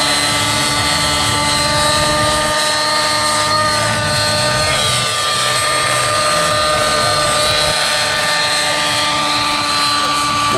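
A T-Rex 700 flybarless RC helicopter flies nearby with a loud, continuous high-pitched whine from its motor and rotors that stays steady throughout, with no talking.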